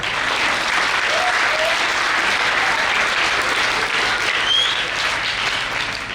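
A church audience at a St. Michael's statue blessing and installation claps steadily in sustained, dense applause that fills the whole stretch at a constant level.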